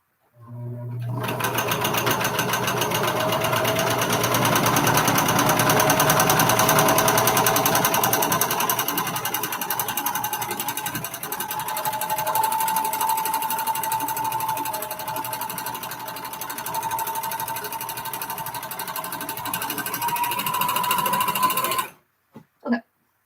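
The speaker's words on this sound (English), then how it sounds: "I started with my sewing machine." A sewing machine stitches continuously at a fast, steady rhythm for about twenty seconds, then stops abruptly with a few faint clicks.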